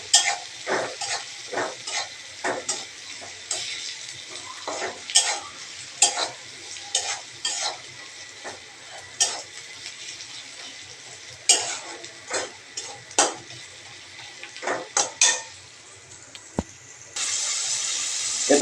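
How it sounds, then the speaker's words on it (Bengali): Vegetables fry in a pan while a utensil stirs them, a soft sizzle under repeated scraping clicks and taps in irregular bursts, close and fairly quiet, ending with a louder steady hiss. "দেওয়ার পরে কিছু সময় নাড়াচাড়া করে নিব"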